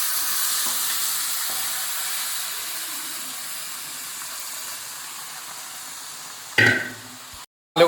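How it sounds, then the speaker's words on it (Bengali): Marinated chicken hitting frying potatoes in a hot pan, a steady hiss of sizzling oil that slowly fades, then a short clatter near the end. "এবার আমি চিকেনটা দিয়ে দেবো।"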